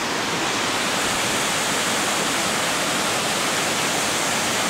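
Waterfall roaring steadily as a dense, unbroken rush of falling water, loud and close throughout, with no voices.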